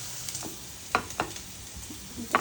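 Garlic frying lightly in a pan for a Chinese-style chicken and broccoli dish, a soft steady sizzle broken by a few sharp scrapes of a utensil against the pan, close and fairly quiet.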